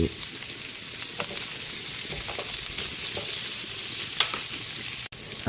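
Onion and pork ribs sautéing in a pan, giving a loud continuous sizzle with occasional sharper crackles and a brief stirring clatter near the end, close up and with no talking.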